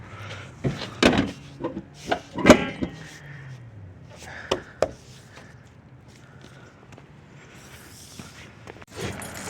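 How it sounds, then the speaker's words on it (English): The hood of a Chevy Silverado 1500 V6 is shut: several sharp, close thuds and clicks in quick succession, then quieter rattles and shuffling. "So we close the hood"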